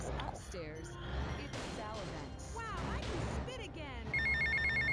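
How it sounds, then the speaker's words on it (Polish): A telephone rings in the video game GTA Vice City, a repeating electronic trill that starts near the end, under someone talking over game noise. "Teraz telefon."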